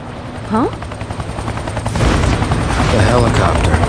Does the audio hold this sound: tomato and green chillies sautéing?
no